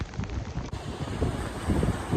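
Storm wind and rain sweep across a South Wales beach, a dense continuous roar of gusts and microphone buffeting that swells louder toward the end.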